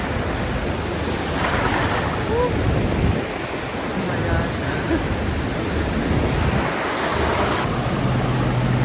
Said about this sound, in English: I got in the ocean.